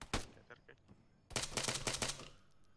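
Rapid bursts of gunfire in the modded military game Arma 3, a couple of single shots followed by a dense, loud stretch of automatic fire, with faint voices underneath.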